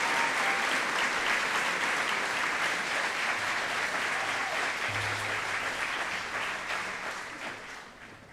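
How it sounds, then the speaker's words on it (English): An audience at a senior recognition ceremony applauds the Teacher Academy class of 2022, a broad sustained roar of many hands clapping that holds for several seconds before slowly fading. "Would you please give a round of applause to the Teacher Academy class of"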